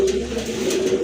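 A pair of Rajgolla fancy pigeons offered for sale gives a low, continuous cooing hum lasting about a second, fairly close and steady, with no talking over it.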